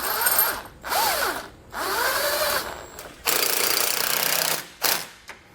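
Power tool with a 17mm socket runs up bolts on a vehicle base plate, sounding as several whirring, rattling bursts separated by short pauses.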